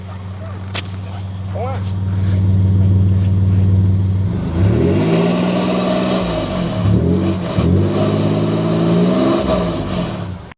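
An Everest Platinum's four-cylinder engine idles with a steady low hum, then is revved several times, the exhaust note rising and falling in loud repeated swells.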